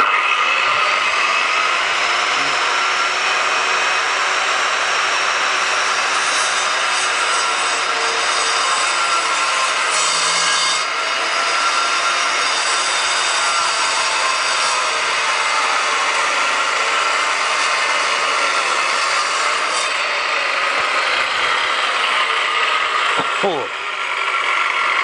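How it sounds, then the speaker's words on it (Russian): Sawing through an interior wall to widen a doorway gives a steady, loud rasping grind that runs almost without a break for the whole stretch, close up, with no talk over it. "Пилится очень легко, но очень пыльно."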